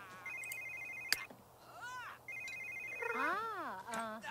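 Electronic telephone ringtone from The Sims 3, a warbling melodic ring repeated in bursts with brief gaps, mid-loud over a soft steady game background hum.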